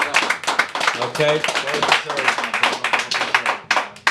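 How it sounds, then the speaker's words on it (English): Clapping from an audience at a hip hop induction and awards event honoring Master B of The Jazzy 5, with steady claps running under a man's continuous speech close by. "Round of applause, everyone."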